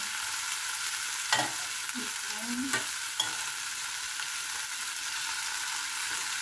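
Talakitok fish frying in a pan, with a steady crackling sizzle throughout. A few scrapes and knocks from stirring or turning the fish come through, close and moderately quiet, with no talking.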